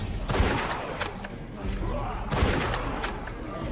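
Rapid bursts of gunfire from The Walking Dead video game, loud and repeated across the clip with heavy low thumps, mixed under game speech and commentary.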